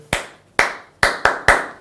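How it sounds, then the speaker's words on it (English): Five sharp hand claps in a short classroom attention-getting rhythm: two spaced claps followed by a quicker run of three, close and crisp with no voices. "there are many different clapping attention getters"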